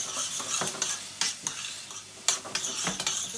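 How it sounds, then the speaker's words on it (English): Chili powder is stirred into a meatball sauce, a spoon scraping and clinking against the pot in repeated close strokes over a soft bubbling simmer, with no one speaking. "I'm just going to stir that in."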